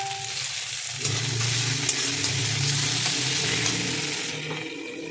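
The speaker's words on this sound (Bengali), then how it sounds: "এবার যে টমেটোটা কেটে রেখেছিলাম সেটা আমি এর মধ্যে দিয়ে দেবো" Chopped tomato drops into frying onions in a home kitchen, and the pan bursts into a loud, steady sizzle that holds close and continuous for several seconds.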